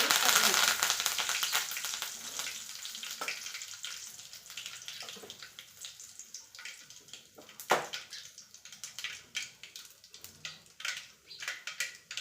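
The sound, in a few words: mustard seeds sizzling while frying in oil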